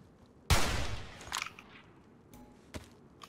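A loud, sharp gunshot cracks out in the video game DayZ, followed by a few quieter distant shots, with brief silence in between and no talking.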